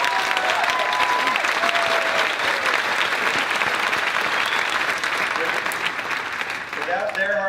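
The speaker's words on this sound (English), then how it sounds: "Let's please give them another round of applause." A commencement crowd applauds the graduating class of 2018 with dense, sustained clapping that stays loud throughout, with some voices faintly audible beneath it and near the end.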